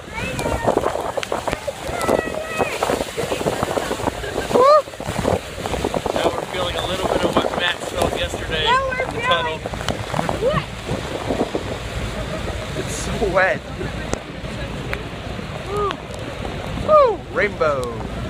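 Heavy, constant roar of rushing water close to a waterfall, with mist, wind buffeting the microphone and excited voices calling out over it.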